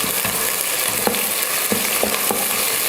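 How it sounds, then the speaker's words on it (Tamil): Onions and slit green chilies sautéing in a pan for mutton biryani, a steady sizzle and fry close up, with a few sharp stirring scrapes standing out over the constant hiss. "இப்போ இதை நல்லா பொன்னிறமாக வதக்கிக்கலாம்"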